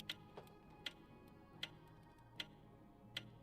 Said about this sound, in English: I can change how fast it ticks.